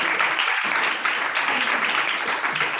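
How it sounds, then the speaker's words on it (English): Audience applause rises for a Leeds West Member of Parliament being introduced at an event, a steady wash of many hands clapping through the whole stretch. "Please give a big hand of applause to Leeds MP."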